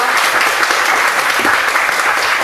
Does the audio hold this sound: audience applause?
yes